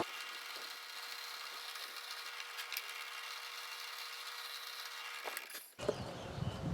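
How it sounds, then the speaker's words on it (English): A quarter-inch Forstner bit drills into wood, giving a steady, close whirring drone for several seconds before it stops abruptly, followed by faint handling noise. "I'll take this Forstner bit that is 1/4 inch, and I'm going to go down about 1/4 inch"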